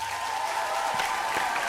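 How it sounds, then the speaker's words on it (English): Audience applause for a singing contestant at a televised vocal competition, a steady wash of clapping filling the short stretch at moderate level with no talk over it. "Ladies and gentlemen, round of applause for Mario Hisiu."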